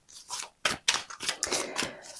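Playing cards being cut and shuffled by hand during a tarot-style reading, a run of close, crisp riffling and slapping bursts with short gaps, no talk over them.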